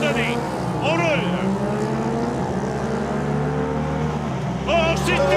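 Race cars at a rallycross event at the GP3R circuit in Trois-Rivières, engines roaring together in a loud sustained drone as they launch at the start, with a commentator talking excitedly over the noise.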